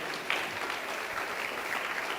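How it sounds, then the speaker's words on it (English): Audience members at a summit event clap together in a steady, dense patter of applause that fills the whole stretch at an even level, with no talking over it. "If you thankful that you here today, start clapping."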